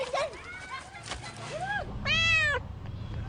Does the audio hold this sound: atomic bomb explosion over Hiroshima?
no